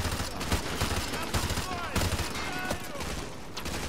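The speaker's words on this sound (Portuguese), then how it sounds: "tem uma arma automática ali, um cara atirando" Automatic weapon fire crackles in rapid, dense bursts during a Call of Duty: Modern Warfare 2 Remastered campaign battle, loud and continuous with scattered distant shots layered over a busy combat din.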